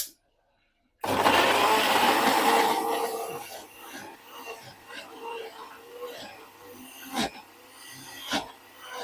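A kitchen mixer grinder whirring as it grinds shallots into a paste, starting abruptly after a second of silence with a loud rasping grind that gradually thins into intermittent rattling pulses.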